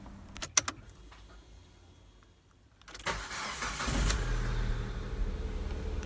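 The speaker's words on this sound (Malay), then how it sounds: "sebab kita nak start kereta" A Proton Exora's engine cranks and catches, settling into a steady low idle after some key jangling and clicks inside the car, close up with no one speaking.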